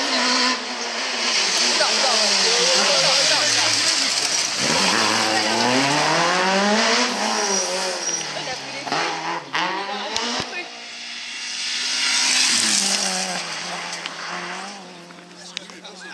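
A rally car at a French rally event revs hard and shifts up into second gear, its engine note climbing in a strong sweep, then dropping and rising again, loud and fairly near, with spectators talking over it.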